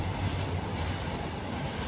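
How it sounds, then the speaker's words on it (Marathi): A train rolling past close to a house, a steady low rumble filling the whole stretch without letting up, with no voices over it. "इथनं रेल्वे जाते, खूप आवाज येतो रेल्वेचा।"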